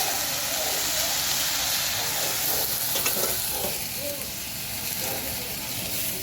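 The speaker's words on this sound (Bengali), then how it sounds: "এখন এই যে ধুয়ে রাখা আমবলি শাকটা এখন আমি কড়াতে দিয়ে দিচ্ছি।" Washed amboli greens go into a hot wok and fry with a steady, close sizzle and hiss, plus occasional stirring scrapes throughout.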